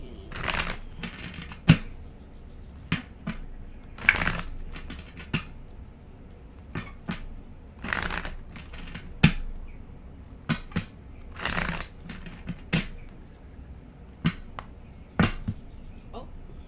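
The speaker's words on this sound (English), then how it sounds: "I just feel that's my cue to stop shuffling." Bursts of shuffling cards, riffled in quick irregular flurries with short pauses between, close and moderately loud, no voices.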